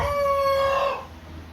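Year-old Isa Brown hens on a small poultry farm, a single close drawn-out crowing call with a clear tonal, buzzy quality that breaks off into quieter background.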